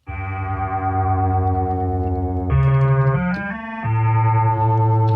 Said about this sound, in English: Let's listen to the totally wet sound of the delay without any of the dry signal.